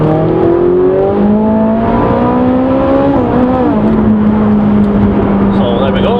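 A Ferrari 458 Italia pulls hard in second gear on a damp bypass, heard from inside the cabin: a loud, continuous engine drone with its pitch climbing gradually, then levelling off, filling the whole clip.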